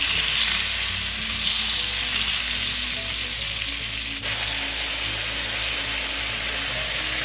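Swordfish steaks searing in a hot pan over medium-high heat, a loud, steady close sizzle throughout with a brief dip and shift midway as the food is moved.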